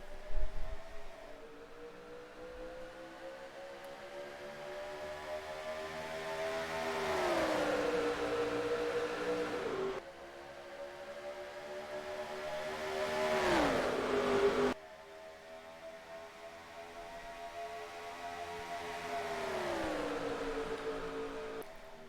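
Stock cars at Charlotte in a racing video game, engines droning and rising in pitch as cars sweep past in three successive passes, mostly steady and moderately quiet, without talk.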